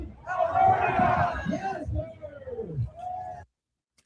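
Hundreds of Albertans rallying outside Elections Alberta for an independence petition handoff, a loud cheering, shouting crowd that swells then gives way to raised voices before cutting to silence.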